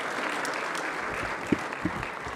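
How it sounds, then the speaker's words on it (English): Audience applause for panel speakers at a leadership forum in Kigali: steady, sustained clapping from a crowd at moderate distance, with a couple of slightly louder thumps near the end. "Can we give a big round of applause to everybody who has shared and spoken?"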